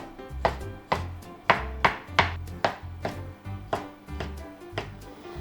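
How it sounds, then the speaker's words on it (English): A knife slices sausage diagonally on a cutting board, about a dozen firm thuds in an even rhythm, close and clear with no talking. "Then sausage, let's cut it diagonal."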